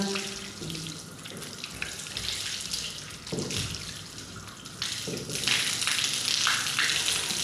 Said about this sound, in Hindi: ये टखनों समेत पाँव को धोना है।